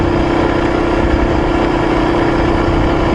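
A motorcycle engine running steadily and loud up close on a rural road ride, a constant droning hum with a strong, even tone and no change in throttle, heard alone without talk.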